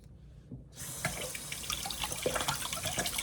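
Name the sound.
rinsing a mango seed under running tap water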